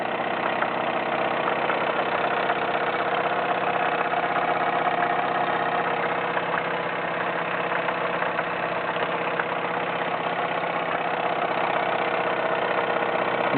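A Wilesco D21 toy steam engine running steadily at speed, a continuous close whirring chuff with a fine rapid beat that holds constant throughout, no voices.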